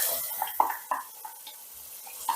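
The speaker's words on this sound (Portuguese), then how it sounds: "Aí eu começo fritando a cebola." Onion frying in oil in a pan, with soft sizzling and a few light scraping stirs of a utensil against the pan, close up and without speech.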